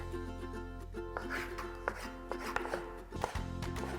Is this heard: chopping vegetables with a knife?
yes